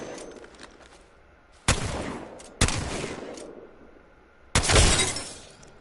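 A video game shotgun fires three loud, sharp blasts at uneven intervals, each with a long decaying ring. Quieter mechanical reload clicks fill the gaps, and no one speaks.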